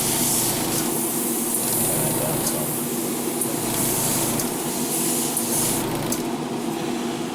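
An airbrush sprays paint onto a Real Grade GP01 Zephyranthes Gunpla model kit, a steady broad hiss held close and unbroken, with a few brief louder spurts near the end.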